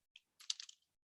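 A computer keyboard clicks with one faint isolated keystroke, then a quick run of several soft taps, close by in an otherwise silent room.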